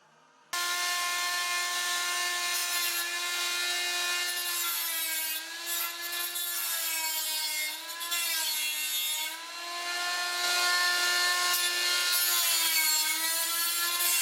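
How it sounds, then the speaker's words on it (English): Power tool cutting through a pinhole-rusted lower body panel on a Studebaker gasser build, a steady high-pitched whining grind with shifting pitch that runs continuously and fairly close, rising slightly louder near the end. "we ended up cutting the bottom couple inches out of the body right here because it was pinhole rust all over it"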